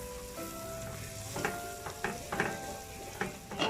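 Chopped onions sizzle in a hot pan while being stirred for ginataang aninikad, a steady frying hiss broken by several sharper scraping bursts as the spoon moves through them, with no talking.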